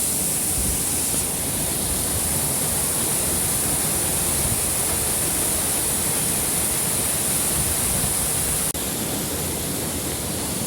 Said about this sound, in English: Gotta get them waterfall shots.